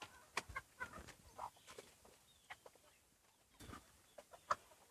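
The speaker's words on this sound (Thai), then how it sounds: "ให้อาหารไก่ตอนเช้า" Chickens cluck in short scattered bursts nearby during morning feeding on a mixed farm, with some quieter rustling and movement between the calls.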